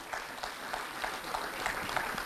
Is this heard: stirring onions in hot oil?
no